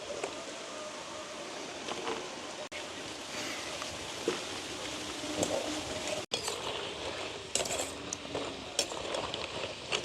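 Pieces of breadfruit fry in hot oil, giving a continuous, moderately quiet sizzle and crackle with occasional faint clinks and stirring sounds.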